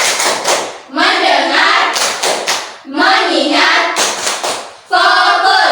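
A classroom 'tepuk fokus' focus-clapping routine led by a teacher: loud, close bursts of rhythmic claps in short groups, alternating with chanted words in a repeating call-and-clap pattern.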